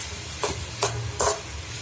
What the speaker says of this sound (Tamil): அதுக்கப்புறமா கொஞ்சமாக மஞ்சத்தூள் சேர்த்து நல்லா கிளறி விடணும்.